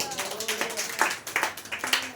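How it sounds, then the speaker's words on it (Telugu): A church congregation clapping hands together in a quick rhythmic pattern, a moderately close patter of claps mixed with a voice. "కొడదాం, చప్పట్లు కొడదాం."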